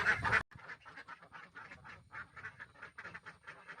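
Ducks quacking in a quick, irregular series of nasal calls, fairly close, after a short burst of louder noise at the start.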